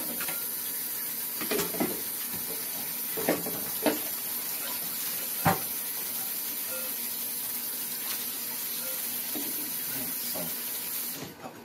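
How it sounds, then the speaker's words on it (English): Running tap water pouring steadily into a kitchen sink while vegetables are washed, a continuous close hiss with small clunks and knocks of handling throughout. "I'm gonna wash the vegetables"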